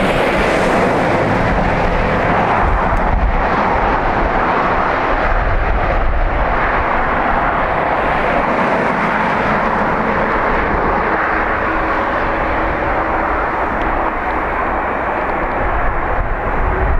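Jet airliners departing Dublin Airport produce a loud, sustained engine roar that stays steady and close throughout, with broadband rumble and some wind buffeting on the microphone.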